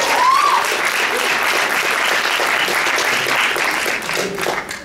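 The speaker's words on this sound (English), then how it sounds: "Can we give them another round of applause?" A concert audience gives a performing group another round of applause, a loud continuous wash of clapping from a crowd in a venue, holding steady before tapering slightly near the end; a brief whoop rises early on.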